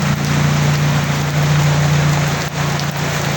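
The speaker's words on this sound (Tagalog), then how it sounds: "naabot tayo ng malakas na ulan" Heavy rain pours steadily outdoors, a dense loud hiss with a low hum running underneath and no talking.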